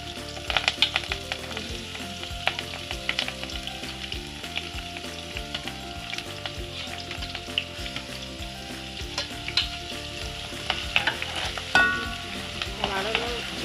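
Sliced onion fries in coconut oil with a steady, close crackling sizzle and occasional stirring, set against a tonal background that sounds like music.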